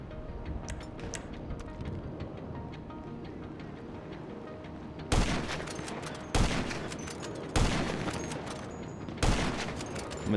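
Sniper rifle gunfire in Grand Theft Auto V, four loud sharp shots spaced roughly a second or so apart, each with a decaying tail, following a stretch of low game ambience with faint ticks.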